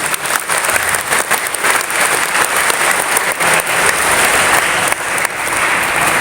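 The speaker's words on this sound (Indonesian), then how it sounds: "Boleh kasih aplaus buat guru-guru kalian dulu?" A school audience of students claps for their teachers, a dense, steady round of applause that stays loud and even for about six seconds, with no voices on top.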